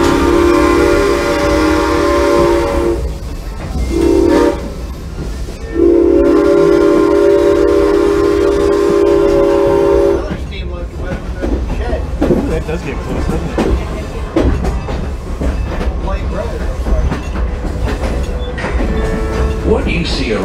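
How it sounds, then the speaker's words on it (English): Heritage train passing through a working rail yard at Strasburg, with long, loud whistle blasts near the start, then a rumbling, clattering ride with distant background sounds as the whistle falls silent. "Right now, you're passing through a working rail yard."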